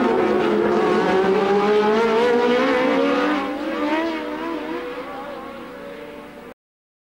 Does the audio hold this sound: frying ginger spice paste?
no